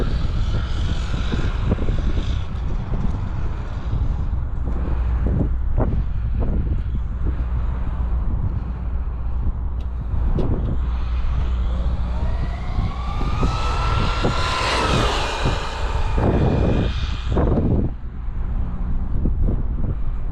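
A Traxxas X-Maxx RC truck on belted tires, geared 46/22, makes a speed run outdoors, its motor whining through a rising and falling pass under heavy gusting wind noise.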